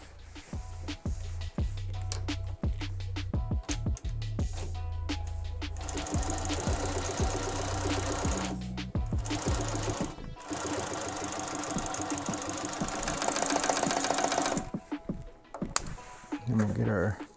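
A sewing machine stitches car seat upholstery in fast, steady runs broken by short pauses, with scattered clicks and handling noises, close and fairly loud.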